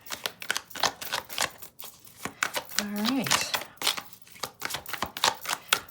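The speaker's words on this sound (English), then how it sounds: "the way I do my readings is I shuffle till one card falls out" A tarot deck is shuffled by hand in a run of quick, crisp riffling snaps and card clicks, fairly close and soft, with a short spoken word partway through.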